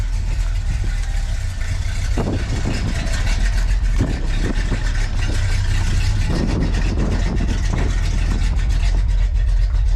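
A 1965 Dodge Coronet 440 idles through Walker stock mufflers, a steady loud low rumble with occasional light blips of throttle, close and continuous with no voices.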